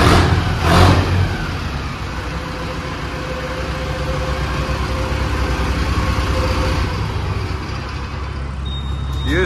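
A Mahindra Novo 605 DI-PS 4WD tractor engine runs at low speed nearby, a loud, steady diesel drone with a deep rumbling tone and no clear revving.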